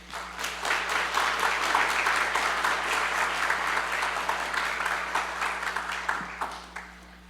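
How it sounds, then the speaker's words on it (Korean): A congregation at a Korean church in Raleigh warmly applauds to welcome a guest pastor from Korea before an ordination service sermon. Sustained, even clapping tapers off at the end over a low steady hum. "나오실 때 크게 박수로 우리 환영해 주시기 바랍니다"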